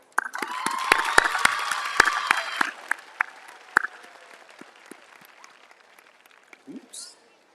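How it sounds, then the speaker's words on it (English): A graduation audience bursts into applause and cheering for school staff, a dense wash of clapping and shouts that swells for a few seconds, then thins to scattered claps with a stray whoop near the end. "Please join me in a round of applause for them"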